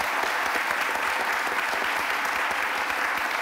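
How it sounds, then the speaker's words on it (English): Audience applause at an Expedia Group fireside discussion and Q&A, a brief continuous burst of many hands clapping close and even, lasting just over three seconds without any talk. "Round of applause."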